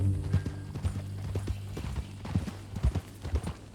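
Horse hooves clip-clop at a steady walking rhythm in the western video game Red Dead Redemption 2, close and distinct over a low ambient hum.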